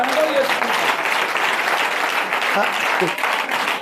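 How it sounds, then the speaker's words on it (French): A church congregation applauds for Jesus Christ in a dense, sustained burst of clapping from many hands. The sound is loud and continuous throughout, with voices mixed into the applause. "acclame encore Jésus-Christ"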